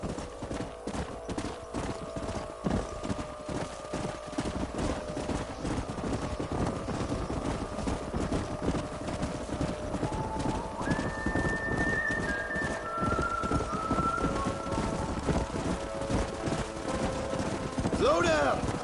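Horse hooves clip-clop in a steady, continuous rhythm close by in the Red Dead Redemption video game, with occasional distant gunfire and a brief whinny near the end.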